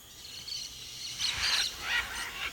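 Macaws calling near a clay lick, a few raucous harsh squawks rising over a quiet outdoor backdrop, fairly close, with no talking.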